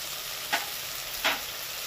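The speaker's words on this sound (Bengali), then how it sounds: "এইবার ভালো করে কষিয়ে নেব।" Ground spices sizzle in oil in a pan for a fish curry, a steady frying hiss with two brief louder sizzling surges as the mixture is stirred.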